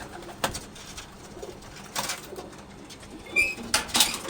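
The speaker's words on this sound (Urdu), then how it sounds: "کمنٹس میں بھی بتائیں استاد حامد صاحب کے کبوتر کیسے ہیں" Sialkoti pigeons cooing in soft repeated calls, with a few louder bursts and brief wing flaps, close by and without talk.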